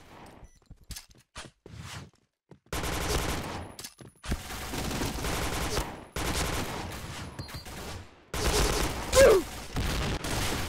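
Gunfire rattles through a match of the online shooter Point Blank, bursts of rapid automatic shots and single cracks alternating with short gaps, loud and close, with footsteps and mechanical clicks between volleys.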